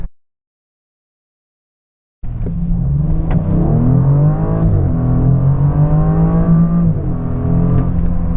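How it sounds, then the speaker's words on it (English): A 2020 Audi S6 with a 2.9 liter twin turbo V6 pulls hard after a short silence, its engine note climbing through the revs in rising sweeps and shifting steadily, loud and close inside the car. "God, love that engine."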